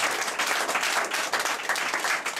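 A church congregation claps in praise, dense steady applause from a crowd filling the room.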